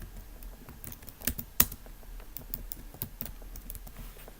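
Quiet, irregular typing on a computer keyboard while entering text into an online design editor, with light scattered clicks and a couple of sharper key strikes, no talking.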